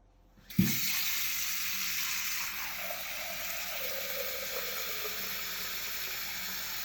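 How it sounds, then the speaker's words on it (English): Cold water runs from a kitchen tap into a pan, starting with a splash and then a steady hissing stream whose pitch shifts as the pan fills. "you need to fill a pan with cold water"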